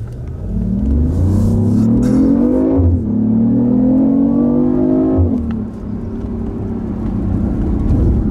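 A BMW i8 hybrid gliding in pure electric mode, giving a steady whirring drive tone that rises, drops twice and settles, with a low road rumble underneath.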